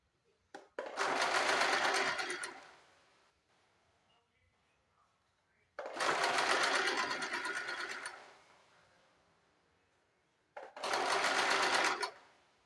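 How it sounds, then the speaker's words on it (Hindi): Sewing machine stitching a sleeve lining all around, three loud close bursts of fast whirring separated by quiet pauses. "चारों तरफ से सिलाई लगा देना है"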